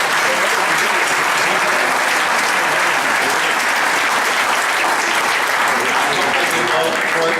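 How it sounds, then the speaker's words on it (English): An audience at a Washington County Chamber of Commerce congressional debate breaks into loud, sustained applause, a dense wash of clapping that fills the whole stretch without letting up. "Please join me in a round of applause."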